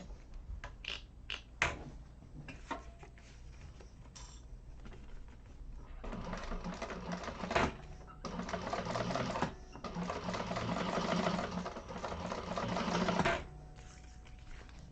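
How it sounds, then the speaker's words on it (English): A sewing machine top stitches through the lining side of a handbag, running in steady bursts with brief pauses between stitching runs, close and fairly loud over a quiet room. "then we're going to top stitch through the lining side to hold that seam in place"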